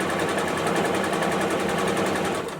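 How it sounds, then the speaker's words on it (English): A sewing machine stitches bias tape onto a fabric surgical mask with a fast, steady, evenly pulsing needle whir, loud and close, running without a break and easing off slightly at the end, with no talking. "So now I'm going to sew this."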